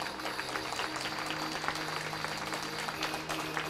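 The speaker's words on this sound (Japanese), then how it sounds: "大きな拍手をお願いします" Spectators applaud athletes at a medal ceremony for a national mixed 10m air pistol competition, a moderate, steady patter of clapping in a hall with a constant electrical hum beneath it.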